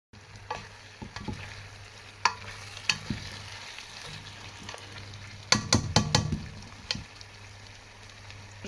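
Fresh green beans drop into a pot for Ivorian-style riz gras and sizzle in hot oil under a soft frying hiss. A spoon stirs them with irregular scrapes and clinks, and a brief cluster of louder knocks comes midway.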